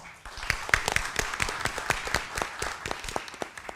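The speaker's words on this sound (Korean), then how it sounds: "여러분 큰 박수로 환영해 주시죠" Audience at a broadcasting forum claps to welcome the forum chair, a modest, fairly sparse round of applause with distinct individual claps, steady for several seconds.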